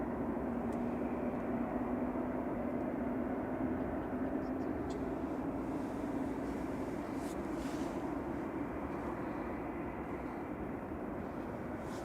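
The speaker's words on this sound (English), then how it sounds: "And number 4 is starting to spin." An airliner's engine spools up at an airport while the plane sits on the runway, heard from a distance as a steady, broad roar with a faint rising whine, continuous and unchanging in level.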